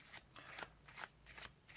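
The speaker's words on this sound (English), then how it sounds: "or just do an overhand shuffle" Playing cards are given an overhand shuffle, a quick series of soft papery riffles and slaps in an irregular rhythm, quiet and close with no talk.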